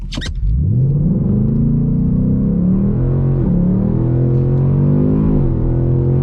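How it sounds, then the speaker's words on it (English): A 2022-2023 Ford Mustang GT Premium with 10-speed automatic accelerates hard in track exhaust mode, its V8 roaring and rising steadily in pitch through gear changes, loud and close from inside the car on a cold day. "exhaust mode track, let's put in S, and let's just take this for 0 to 60."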